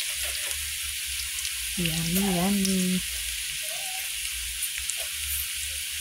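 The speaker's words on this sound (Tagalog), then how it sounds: "Natin igisa yung chicken." Chicken sautéing in a pan with golden-browned ginger for tinola, a close, steady sizzle throughout, with a voice speaking briefly over it.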